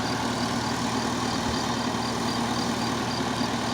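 A heavy tractor engine driving a centrifugal pump to irrigate barley runs steadily at a constant low rumble, loud and close, with no pauses or voices.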